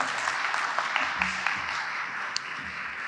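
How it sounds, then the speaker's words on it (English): Audience applause fills a pitch competition hall, a steady even wash of many hands clapping throughout at moderate loudness, with no voices over it. "Okay, round of applause."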